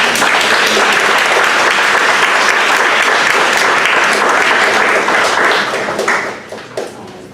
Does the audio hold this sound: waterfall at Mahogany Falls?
no